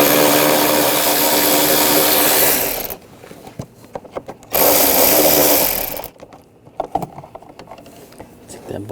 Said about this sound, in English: Now using a 10mm socket,